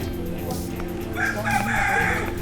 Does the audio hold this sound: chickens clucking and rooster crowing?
yes